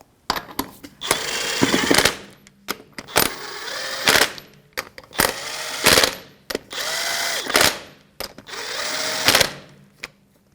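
Lug nuts on a 2011-2017 Honda Odyssey wheel being run down with a 22mm socket on a power tool, in a series of loud buzzing whirring bursts separated by short pauses and clicks.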